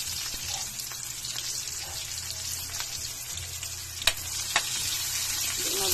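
Garlic frying in a pan gives a steady close sizzle, with a spoon stirring and a couple of sharp taps against the pan, and no talk.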